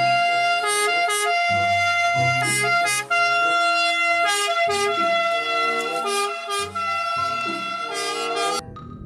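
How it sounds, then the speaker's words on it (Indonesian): A toy ambulance's electronic siren sounds loud and close, a bright warbling tone with layered beeping notes cycling steadily, cutting off abruptly at the end. "kalau yang ini adalah si mobil ambulan"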